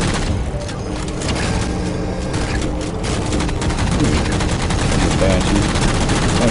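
Sustained gunfire rattles through a Halo 4 battle, loud rapid bursts of automatic shots layered with booms over a steady din of combat, with a voice faintly underneath.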